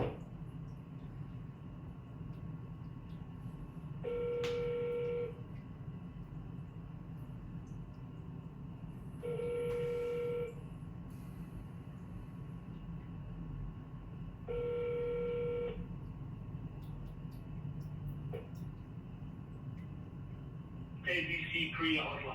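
Touch-tone dialing while placing a phone call: three spaced bursts of paired keypad tones, each about a second long, ringing over a steady background hum, with a short click near the end.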